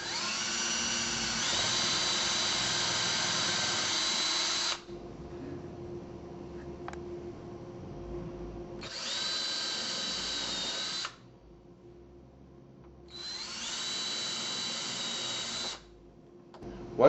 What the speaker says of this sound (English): pre-drill your holes for the screws